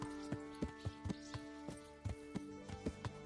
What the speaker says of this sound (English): here's a horse out in the yard